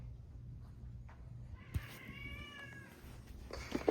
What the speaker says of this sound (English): that's my cats